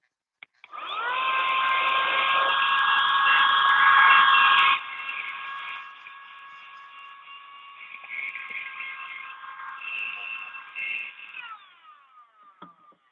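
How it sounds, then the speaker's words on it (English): A small nail dust vacuum runs with a steady high whine, loud for several seconds, then dropping to a quieter, fluctuating hum before switching off. "my little vacuum. It's so tiny. I thought it was gonna be bigger."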